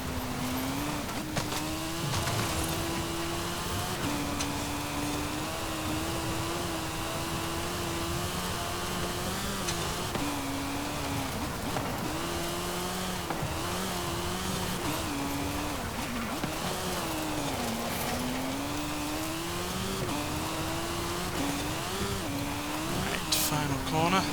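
A 2021 Sierra Cars RX3 in Forza Horizon 5 drives with a loud, continuous engine note that climbs and falls repeatedly through gear changes, with someone speaking over it at times.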